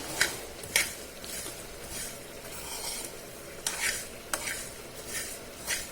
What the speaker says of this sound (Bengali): আমার চিড়ে ভাজাটা অলমোস্ট হয়ে গেছে